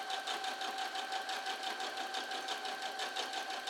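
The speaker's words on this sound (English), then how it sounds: "stitch along that sandwich side of the fabric, essentially making a drawstring." A sewing machine stitching along a folded sandwich of fabric to form a drawstring for a bouquet bag, running at a steady, fast, even whirring rhythm throughout at moderate loudness.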